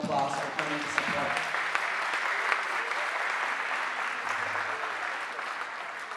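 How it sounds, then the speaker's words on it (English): An audience at a Founder's Day ceremony claps in steady, sustained applause that fills the room. A voice speaks over the start of it. "Let's give them a round of applause for coming to support."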